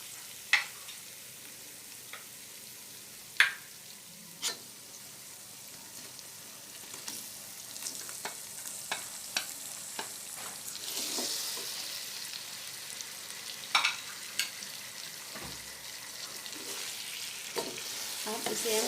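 Tomatoes fry in a pan for chicken pulao, with sharp spatula knocks at first, then a steady sizzle that grows louder midway, broken by occasional stirring clatter, close and without talk.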